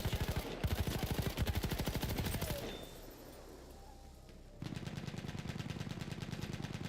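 Rapid machine gun bursts in the World War I shooter Battlefield 1, loud and rhythmic for over two seconds, a pause of quieter ambience, then another sustained burst of fire.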